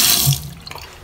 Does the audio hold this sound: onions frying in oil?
no